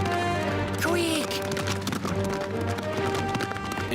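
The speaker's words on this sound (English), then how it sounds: "Riding a horse?" Horse hooves gallop at a steady run beneath a busy Lucky Luke cartoon soundtrack of music and effects, with voices and a brief sweeping whistle over the rhythmic clopping.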